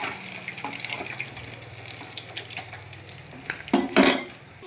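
Katla fish frying crisp in hot oil gives a steady close sizzle with light clinks of a utensil against the pan, swelling into a louder burst of spattering near the end.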